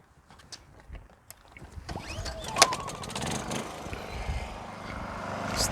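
A Honda portable generator is pull-started: a few sharp tugs and clicks, then the engine catches about two seconds in and settles into a steady, fairly close running hum that builds slightly toward the end.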